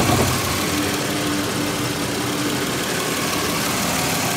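A 2000 Buick Century's 3.1 liter 3100 SFI V6 idles with a steady, even engine rumble and hum at close range, running on its own with no talking.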